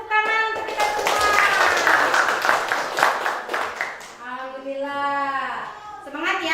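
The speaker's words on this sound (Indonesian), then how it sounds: "Tepuk tangan untuk kita semua" A group claps through a short round of applause that fades away, then children's voices ring out loudly in high tones.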